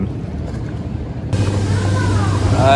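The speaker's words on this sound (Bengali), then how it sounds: "আর এই জায়গা থেকেই আমাদের বোট জার্নিটা শুরু হবে, এই যে লেক পার দিয়ে" A boat rides on a lake at a resort, with a low steady engine hum and water noise that grows louder and rougher about halfway through, as if the boat gets under way.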